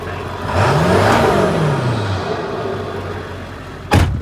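A Ford 7.3 Powerstroke diesel pickup engine revs up and back down in one close, loud swell, then settles to a rough idle, with a sharp thump near the end.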